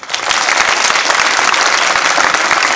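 Loud, dense applause from a high school audience at a magic show, many hands clapping rapidly and steadily for a few seconds without talking.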